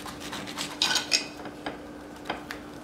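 A knife slicing a rinsed orange down the middle on a cutting surface, heard as a few short, close cutting and clinking strokes with light scraping between them, no voices.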